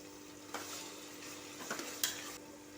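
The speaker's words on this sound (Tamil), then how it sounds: "அதையும் சேர்த்து மிக்ஸ் பண்ணி கொடுத்துடலாம்." Ground spices are stirred into chicken biryani in a pressure cooker, making faint, intermittent scraping strokes over a quiet, steady kitchen background.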